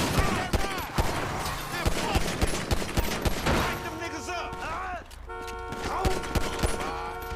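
Rapid bursts of gunfire in Grand Theft Auto V, a dense fusillade of sharp shots with vehicle noise and a horn mixed in, loud and continuous throughout.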